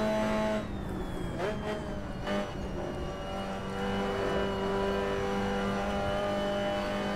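Mazda MX-5 Cup car engine in a sim racing game at Daytona, a steady drone with short dips where the driver lifts and clutches through upshifts, heard close under intermittent commentary.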